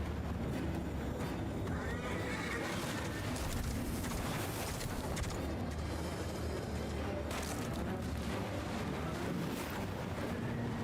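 In the video game Lords of the Fallen, a horse whinnies among dense, rushing game ambience with a continuous roar underneath, moderately loud and mixed in without speech.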